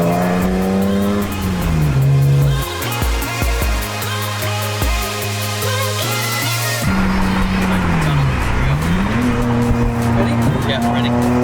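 A crashed McLaren and other cars revving hard in a rev-off, with loud rising and falling engine wails, sharp throttle blips and overlapping exhaust roars close by, while people talk over it.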